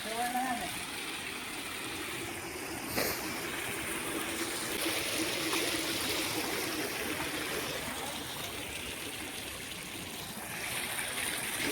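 Steady rushing water flows continuously over a dam, a broad roar filling the scene from start to finish, with faint voices now and then beneath it.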